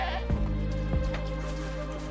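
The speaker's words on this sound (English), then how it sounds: "Can I kill the goat?" Goat bleating in the video game Wuthering Waves, a couple of short, wavering bleats over a steady background drone of game sound, no talk.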